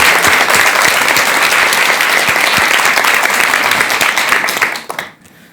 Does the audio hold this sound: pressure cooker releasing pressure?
no